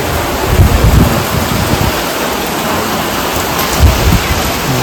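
Heavy unseasonal summer rain pours down steadily in Dhajala, a dense, close wash of drops broken by deep, loud thunder rumbles near the start and again toward the end, with no talking.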